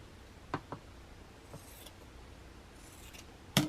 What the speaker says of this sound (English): I just want to take a pair of scissors and cut about 1/4 inch off